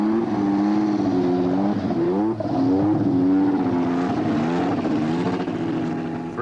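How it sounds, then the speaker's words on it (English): A 1986 Cosworth V6 turbo Formula One engine running nearby, with a loud, steady, droning note whose pitch wavers and dips repeatedly as the throttle is blipped, with no talking. "Patrick Tombe has striven for Ferrari and has learned to judge a turbo by its sound."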